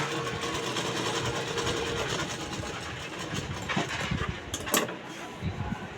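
A sewing machine runs close by, putting finishing stitches on a princess-cut blouse with a steady mechanical rattle, followed by a few sharper clicks and handling noises toward the end.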